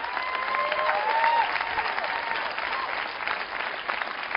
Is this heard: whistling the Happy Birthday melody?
no